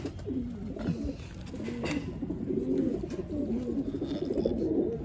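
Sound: pigeon cooing

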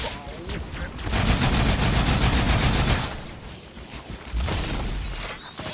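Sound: dual needler guns firing in Halo 2 video game

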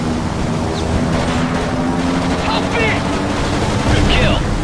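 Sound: machine gun fire from the video game Blazing Angels

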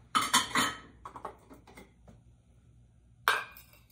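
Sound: plates and bowls being layered and handled

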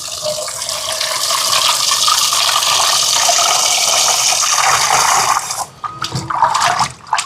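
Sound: water rinsing cut fish

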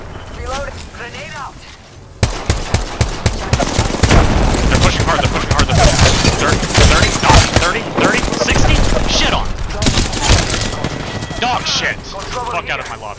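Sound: gunfire in a video game shootout

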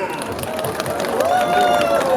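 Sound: audience applause at outdoor busking

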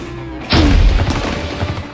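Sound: toy paintball tank firing

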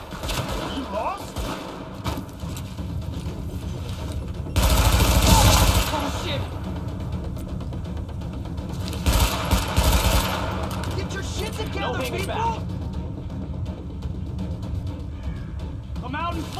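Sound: gunfire from the video game Tom Clancy's The Division

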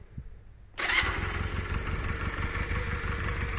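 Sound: motorcycle engine starting

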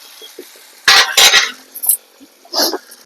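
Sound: stirring brinjal coriander leaves curry in pan

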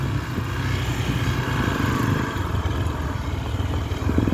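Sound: motorcycle engine riding

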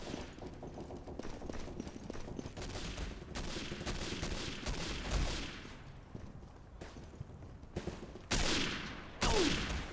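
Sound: gunfire in video game Day of Defeat Source

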